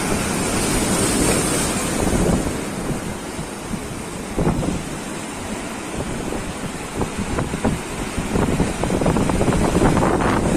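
Huge surf pounds a storm-tossed beach during a full-moon spring tide, reaching a resort's front gate; a close, steady roar with wind rumble, rising to sharper crashes near the middle and again toward the end.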